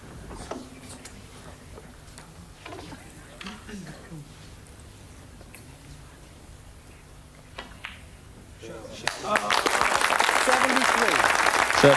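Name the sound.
snooker crowd applauding Ronnie O'Sullivan's break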